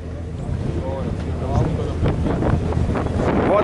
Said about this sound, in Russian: Прямо ветер-ветер.